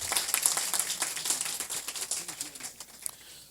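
Scattered clapping and tapping fill the space with bright, irregular bursts, steady for a few seconds then thinning out.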